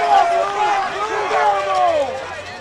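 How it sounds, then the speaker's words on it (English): A baseball crowd booing an umpire's call at a Longview Lobos versus Frisco Reedy game, a broad swelling murmur of many voices with rising and falling shouts, heard under a commentator's talk. "Crowd start to let the umpire know they disapprove that call."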